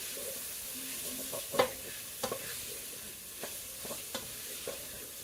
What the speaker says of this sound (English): When you stir the beef, it picks up all that brown stuff off the bottom of the pan.